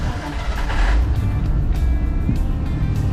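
Ford Bronco on the move after a new power steering fit, its engine and road noise a steady close rumble that swells briefly early on, with no talk.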